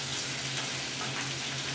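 A pot of water at a rolling boil for pasta, a steady hissing, bubbling rush with a low hum underneath, close and continuous with no talk.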